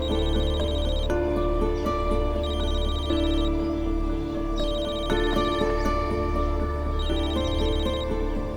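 Telephone ringing in a Turkish drama dubbed into Urdu, a steady electronic ringtone repeating in regular cycles over soft background music, with no talking.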